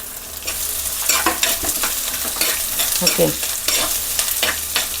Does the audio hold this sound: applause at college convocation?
no